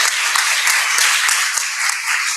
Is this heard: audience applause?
yes